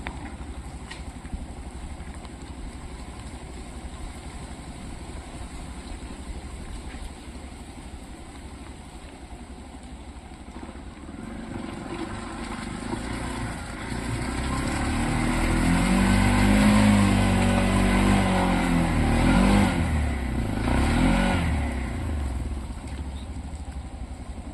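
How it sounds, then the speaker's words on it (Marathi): A vehicle engine labours up a muddy, damaged road, idling low and then revving harder as it climbs, growing louder toward the middle before easing off. "तर मित्रांनो आमची गाडी फायनली वरती चढली."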